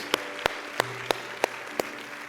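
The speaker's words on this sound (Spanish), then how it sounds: "Dale un fuerte aplauso a Él." At a church sermon, six sharp, evenly spaced claps ring out one at a time with pauses between, over a quiet background with a faint tone.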